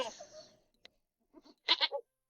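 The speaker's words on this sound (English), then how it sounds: "It's a goat." A goat gives a short, quavering bleat of three quick pulses near the end, after a few scattered faint sounds. It is moderately loud and plays alone, with no talking.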